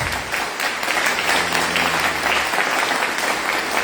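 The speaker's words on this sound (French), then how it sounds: "je vous demande d'acclamer le Seigneur. Acclamez le Seigneur." A church congregation applauds steadily in response to a call to acclaim the Lord, a dense, sustained wash of clapping from many hands with no speech on top.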